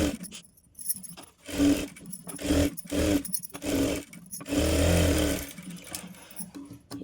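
A sewing machine stitching the back neck of a designer blouse runs in short, uneven bursts separated by pauses, close and moderately loud, with one longer run near the end.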